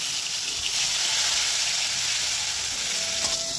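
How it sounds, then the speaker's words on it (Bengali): Two pointed gourd (potol) slices frying in oil produce a steady, even sizzle from start to finish, close and unbroken, with no voices. "এখানে হচ্ছে 2টো পটল ভাজা বসিয়েছি বড়মশাইয়ের জন্য"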